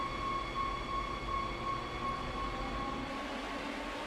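A train running in the Train Sim World game (Rapid Transit), a steady rolling rumble with a sustained tonal whine, constant and fairly loud throughout with no talk.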